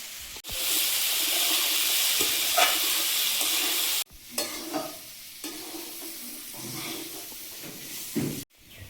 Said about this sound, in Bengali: আলুটা একটু নেড়ে চেড়ে নিয়ে বরবটিটা দিয়ে দিচ্ছি।